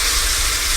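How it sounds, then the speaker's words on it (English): Loud, steady hiss of chicken wings sizzling in a skillet, still hot from baking in the oven, a continuous close crackle with no talk. "they're still sizzling from the oven"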